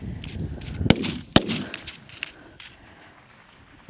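Rifle shots from competitors lying prone in a long-range stage of a men's elite regional shooting match in North Carolina: two sharp, loud cracks about half a second apart, followed by fainter distant reports and shuffling.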